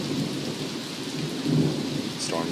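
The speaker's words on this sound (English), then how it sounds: "The storm's getting more and more severe. Rain's picking up." A morning thunderstorm pours heavy rain in a dense, steady hiss, with a low rumble of thunder swelling midway; no voices.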